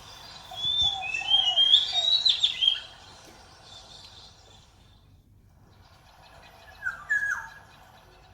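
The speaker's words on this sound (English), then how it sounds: "The tone of the bird songs are different." Recorded bird songs play back to back, a bright warbling phrase of whistled notes for about two seconds, then a pause, then a shorter answering phrase, clear and moderately loud over faint background noise.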